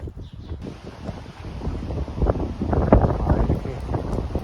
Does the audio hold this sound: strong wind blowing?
yes